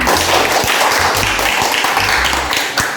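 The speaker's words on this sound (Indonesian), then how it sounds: "Oke, tepuk tangan kita semua." A group of teachers at a school coaching and supervision session claps together, a dense steady patter of many hands running close and loud through the whole stretch, with a few sharper slaps standing out.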